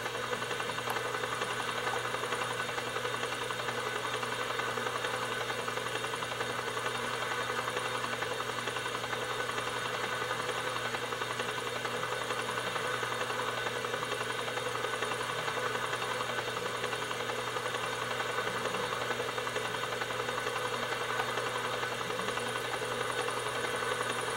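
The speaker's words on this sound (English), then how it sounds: "I'm gonna take this red helicopter" A red helicopter flies in Grand Theft Auto IV multiplayer, its engine and rotor giving a constant, even drone with no breaks, heard alone at low level.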